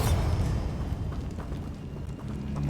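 A Bombarda spell explodes in the Hogwarts Legacy video game, a deep rumbling blast with a low rolling boom that lingers and swells again near the end, loud and alone.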